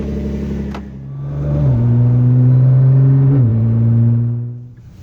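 A car engine idles and then revs as the vehicle pulls away, a loud, close, steady rumble that rises in pitch and settles into a sustained drone before fading slightly at the end.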